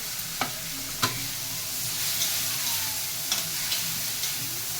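Green chillies frying in oil in a pan, a steady hiss of sizzling with a few sharp clinks of a spoon on the pan, close and moderately loud, with no talking.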